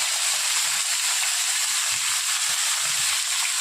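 Bottle gourd pieces dropped into a pan of frying onions, giving a steady, close, bright hiss of sizzling oil that continues evenly throughout, with faint clinks of stirring underneath.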